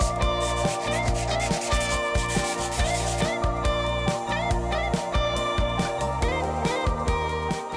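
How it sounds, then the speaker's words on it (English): Rhythmic back-and-forth rasping of sanding a bedroom wall smooth before painting, repeated strokes at an even pace, heard under a steady music track. "I ended up sanding all the walls here just to smooth it all out ready for painting"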